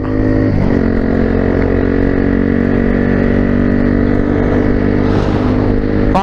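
A motorcycle with a newly replaced chain and sprocket cruises steadily along a road. Its engine drones loud and close throughout, with a rough continuous hum and no voices.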